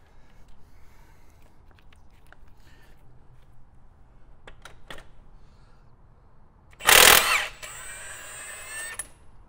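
A Milwaukee cordless impact wrench with a full 9.0 battery, set to max, hammers loose a Honda crankshaft bolt in two loud, close rattling bursts after a quiet stretch of faint shop clicks and handling noises.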